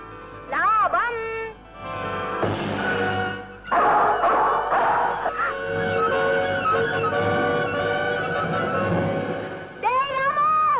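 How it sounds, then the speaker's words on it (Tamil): A dog running off with a fish gives a few rising, whining yelps and barks at close range, mixed with people shouting and talking over it. "நாய் மீனை தூக்கிட்டு ஓடுதுடா"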